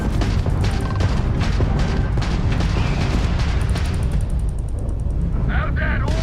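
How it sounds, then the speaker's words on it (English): Starfield space combat with a homing missile and ship weapons: a dense, continuous wash of booming blasts and rapid weapon fire, heard steadily, with a voice speaking over it. "If you can keep the enemy ship centered on the HUD, we can lock in to fire a homing missile."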